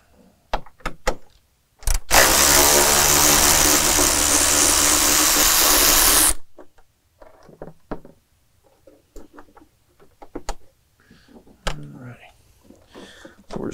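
A power tool spins a 13mm bolt out of the front of an air box on a 6.7L Cummins diesel in one loud, sustained buzzing burst of about four seconds, with someone talking before and after.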